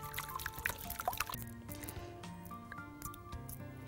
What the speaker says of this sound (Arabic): يلا بينا نحط العسل.